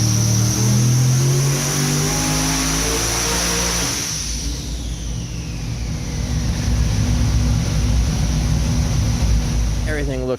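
A Steve Morris SMX engine on a dyno holds a loud, steady roar, dips in pitch around the middle, then climbs again in a sustained high-rpm rev that fills the whole stretch.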